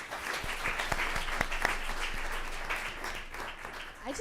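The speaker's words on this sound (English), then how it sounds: "So give them one more round of applause." An audience at a school district board meeting claps for students and artists, a steady even round of applause with some distinct sharp claps, heard from a moderate distance.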